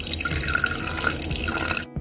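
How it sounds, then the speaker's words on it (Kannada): Water poured into a mixer jar over cooled ingredients for homemade tomato ketchup, a steady splashing, gurgling stream at close range that runs for about two seconds before cutting off. "ನೀರು ಸಮೇತ ಹಾಕ್ಕೊಳ್ತಾ ಇದ್ದೀನಿ ಇಲ್ಲಿ ನಾನು."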